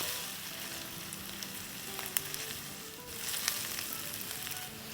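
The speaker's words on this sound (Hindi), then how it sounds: "प्याज़ों को फ्राई करेंगे, ब्राउन नहीं करनी है, लेकिन सॉफ्ट हो जाए जब तक" Onions fry in a pan with a steady, soft sizzle and crackle, a faint stir scraping partway through.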